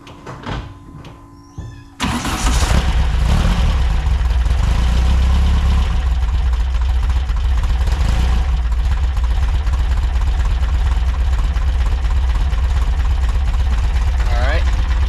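A 1966 VW Split Bus engine with Weber IDF 44 carburetors and an intake manifold leak cranks and catches, then settles into a loud, steady, rumbling idle up close.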